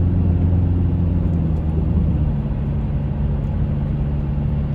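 A 2004 Toyota Camry fitted with an Evil Energy muffler cruises on light throttle, a low, steady exhaust drone and road rumble heard from inside the car, even and unhurried with no voices.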